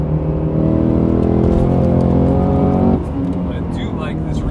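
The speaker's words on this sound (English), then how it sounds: "Oh, it is fast. I forgot how fast my car was." A Cadillac Blackwing accelerates hard, its engine note climbing steadily and loud from inside the car before a gear change drops the pitch about three seconds in, then it pulls again. The run has no clear speech over it.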